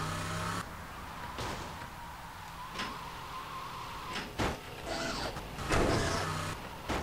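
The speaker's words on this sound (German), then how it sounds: "Auto macht mal schöne Geräusche." Car noises in GTA Vice City: a steady engine hum with repeated mechanical clunks and whirring bursts, moderately quiet and close, with no talking.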